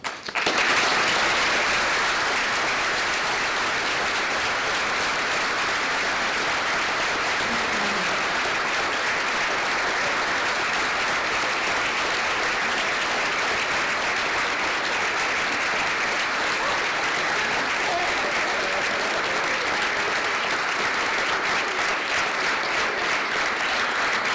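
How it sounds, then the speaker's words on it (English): A large audience applauds at an award presentation, a dense, continuous wash of clapping that stays loud and even for over twenty seconds with no voices above it. "Please give a round of applause to Second Story's Youth Council"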